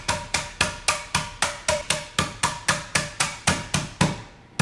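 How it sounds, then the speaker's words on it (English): Flat side of a hammer crushing pretzels into crumbs, about eighteen sharp, evenly spaced blows in a steady fast rhythm, close and loud with nothing else heard. "using the flat side of a hammer, make crumbs"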